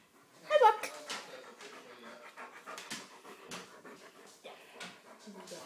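A dog named Buck pants rapidly and close up, with quick breathy huffs and a brief whimpering sound near the start, while people talk over it.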